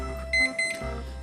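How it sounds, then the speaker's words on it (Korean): A kitchen timer alarm goes off after three minutes while spicy braised potatoes simmer over medium heat, a close electronic ringing of repeated beeping bursts over a steady background hum. "자, 이제 타이머 3분이 다 돼가고 있습니다."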